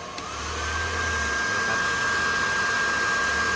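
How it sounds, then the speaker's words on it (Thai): An electric hot-air blower runs on cool air with its heating element off, a steady loud whirring roar that rises in pitch and intensity as the fan speeds up. "ผมจะเร่งความเร็วพัดลมนะครับ"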